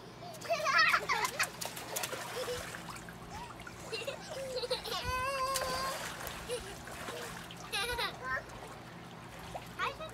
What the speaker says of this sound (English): Bailey, you enjoying the pool?